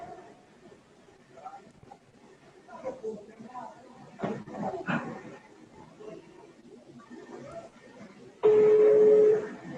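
A real estate agent places a phone call during a live property stream; muffled indoor talk and background chatter run on, then a loud, steady telephone tone sounds alone at the end.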